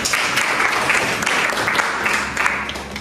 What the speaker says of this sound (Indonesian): Kita beri aplaus dulu untuk mereka perempuan